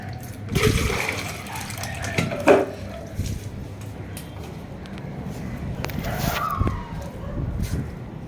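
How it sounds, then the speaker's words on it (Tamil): Water splashes and gushes in bursts as it is poured on garden plants, with a few louder pours and some rustling movement, nearby. "இந்த செடியெல்லாம் கொஞ்சம் தண்ணி ஊற்றிட்டு"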